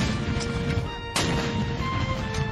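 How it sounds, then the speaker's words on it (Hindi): A 31-gun artillery salute at the amphitheatre marking Dr. Rajendra Prasad's arrival on Republic Day, 26 January 1950: a single sharp cannon report cuts through the dense hiss of an old recording. "वहीं एम्फी थिएटर में डॉक्टर राजेंद्र प्रसाद के आगमन पर 31 तोपों की सलामी दी गई"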